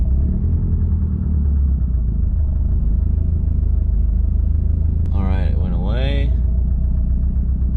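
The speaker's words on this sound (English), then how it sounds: "Car's running like it normally does, kind of rough idles for a sec" Subaru STI with a boosted engine tune idling roughly, a steady low rumble that stays constant throughout, with a brief higher whine or voice-like sweep near the end.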